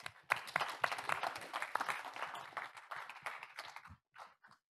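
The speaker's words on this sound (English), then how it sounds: "Round of applause for them." A crowd applauds the organizing team at a Vue developer conference, a burst of many hands clapping that swells quickly, holds for a few seconds, then thins to a few scattered final claps.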